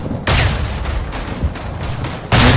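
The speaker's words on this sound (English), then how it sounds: "Grenade. I couldn't get away." Grenade explosions in the World War I shooter Tannenberg, two loud booms about two seconds apart over a dense backdrop of distant gunfire and battle noise.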